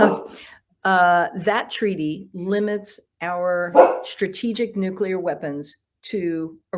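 A dog barks in the background during a talk on nuclear weapons treaties, the barks faint and mostly masked beneath a man's continuous speech.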